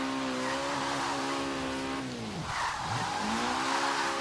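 A Nissan S13 drift car in the racing game Forza Horizon 3 slides with a sustained tire squeal over a steady engine drone, the engine pitch dipping sharply mid-drift before climbing again, loud and continuous.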